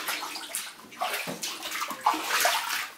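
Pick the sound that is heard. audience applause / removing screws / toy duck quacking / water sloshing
water sloshing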